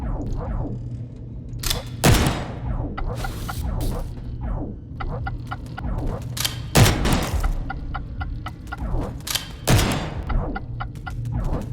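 A gun fires in the steampunk dungeon game Vaporum, with three sharp, loud blasts spread a few seconds apart over a busy, clattering backdrop of game noise.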